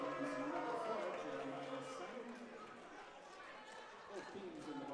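A high school boys basketball crowd in a gym reacts loudly against a blocking foul call, a dense roar of voices and chatter under an announcer's commentary, fading slightly as it goes on.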